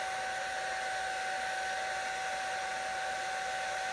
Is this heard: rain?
no